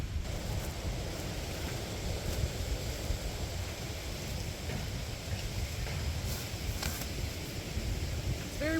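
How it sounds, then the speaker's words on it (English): Gusty wind blows across an outdoor garden where mulch is being spread for garlic planting, a steady broad rushing roar with low buffeting rumble, continuous and fairly loud throughout. "It's very windy today."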